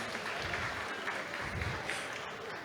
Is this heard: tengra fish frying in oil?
no